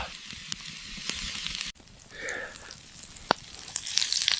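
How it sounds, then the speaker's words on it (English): Venison steaks sear in a hot cast iron pan, a soft sizzle and crackle with a few sharp pops, close by and moderately quiet. "When searing a steak on cast iron, you want to make sure you have a good hot pan"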